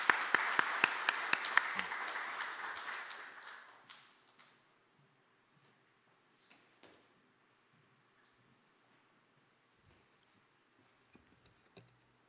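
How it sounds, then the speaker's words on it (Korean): A church congregation gives a warm round of applause to welcome a new choir conductor, dense clapping that fades out over about four seconds, followed by a quiet room with occasional small knocks. "우리 인사하실 때 박수로 뜨겁게 환영해 주시면 고맙겠습니다"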